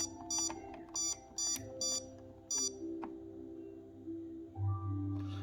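A security alarm keypad emits a series of short, evenly spaced electronic beeps as a code is entered, clear and close, followed by a low hum and a brief double tone.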